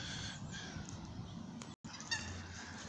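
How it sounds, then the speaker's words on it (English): Canada geese honking in a park, several loud nasal calls with one brief break, against steady outdoor background noise. "Canadian geese"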